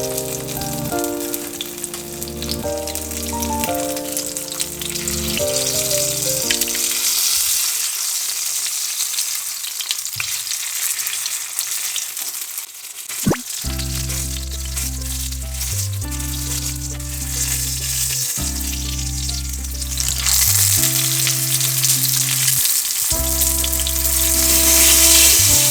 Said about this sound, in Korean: 프라이팬에 기름을 많이 넣고 튀기는 걸 추천해 드립니다